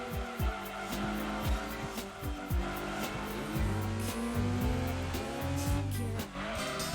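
Honda S2000 AP1 engine droning and revving through a Gran Turismo 2 race, with tires squealing repeatedly as the car slides in oversteer; the steady, close engine note shifts pitch through gear changes across the lap.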